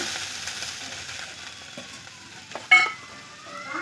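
Washed, cut potatoes and water go into a hot pan of cumin-spiced fish curry. A continuous close frying sizzle builds to a sharp hissing burst as the water hits, then settles back into a steady bubbling sizzle.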